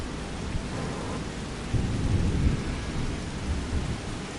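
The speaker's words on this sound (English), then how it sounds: "I bet it's because it's raining." Steady rain with deep rolling thunder in Farming Simulator 25 on the Calm Lands map, played on PS5. The rumble swells and fades over a constant hiss of rainfall, with no voices.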